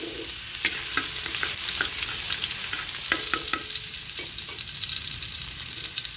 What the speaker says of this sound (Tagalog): Init na ang mantika, ilagay ko na ang bawang.